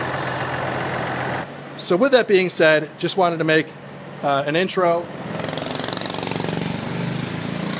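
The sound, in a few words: diesel truck engine idling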